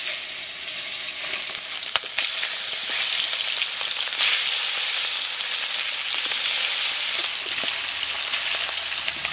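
Hot oil sizzles steadily in a heated wok as grass carp is fried, a continuous crackling hiss with small pops and no talking.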